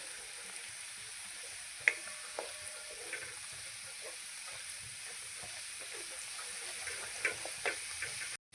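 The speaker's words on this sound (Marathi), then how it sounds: "खोबऱ्याचं वाटण टाकून घेणार आहे हे छान आपल्याला लाल रंगावर परतून घ्यायचं आहे" Ground coconut paste sautéing in hot oil in a pan, with a soft, continuous sizzle and occasional light clicks from stirring, steady and fairly quiet.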